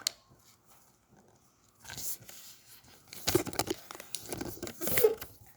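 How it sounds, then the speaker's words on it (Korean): A sheet of colored paper being folded into a triangle for a paper parachute craft, with soft close crinkling and crisp creasing rustles in short bursts after a quiet start. "하고 싶은 색깔이 위로 가도록 해가지고 삼각형으로 접어주세요."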